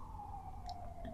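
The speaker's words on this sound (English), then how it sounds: "sorry about that siren." A siren passing outside gives a steady, fairly faint wail throughout, with a few brief higher tones near the end and no talking.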